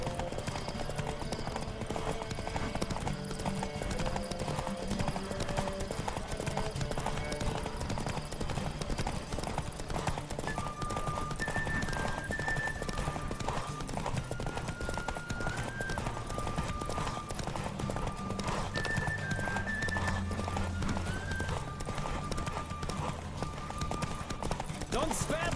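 Rapid, rhythmic hoofbeats of a galloping horse in The Witcher 3: Wild Hunt run continuously, mixed with game music and occasional whinnies.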